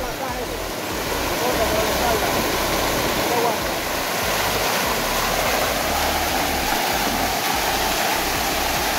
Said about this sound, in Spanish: Hidromasaje.